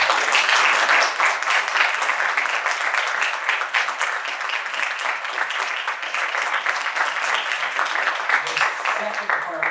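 An audience at a civic summit claps in sustained applause, a dense, even patter of many hands continuing throughout at steady volume.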